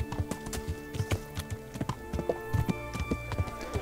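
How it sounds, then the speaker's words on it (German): Horse hooves clip-clop in steady rhythm in the medieval game Kingdom Come: Deliverance, close and clear over a low music bed, with a faint neigh or two and no talk. "Mann, habe ich ein schickes Pferd."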